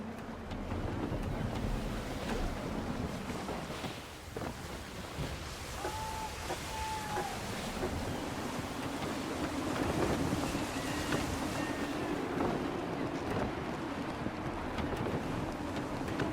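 A sailing ship in Assassin's Creed 3 runs under full sail through gusty wind: constant rushing air and wash of water, fairly soft, swelling and easing in gusts.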